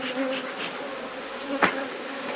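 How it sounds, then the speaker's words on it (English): Honey bees from a dead hive buzz angrily in a steady, close swarm drone, with one sharp louder burst near the end. "These bees are angry because they know it."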